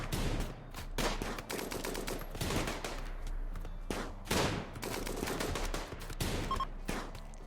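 Rapid bursts of gunfire from a firefight in the video game RimWorld, overlapping volleys and single cracks scattered throughout at moderate volume.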